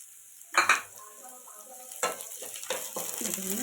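Onions frying in a pan while making paneer chilli, a low sizzle broken by a few sharp scraping and stirring bursts with utensil clinks, close and moderately quiet.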